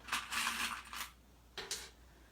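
Sewing clips snap onto fabric at a serger while an Easter egg bowl is assembled, giving a quick run of crisp plastic clicks and rustles, then a shorter pair of clicks, close and fairly quiet.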